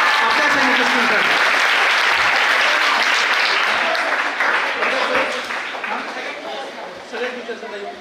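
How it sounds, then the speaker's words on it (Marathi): Loud, dense audience applause at a Guru Purnima celebration at a school academy, sustained clapping from a large crowd that gradually thins and fades toward the end. "तर जोरदार टाळ्या झाली पाहिजे आपल्या अकॅडमीसाठी, आपल्या शाळेसाठी, आपल्या सैनिकांसाठी."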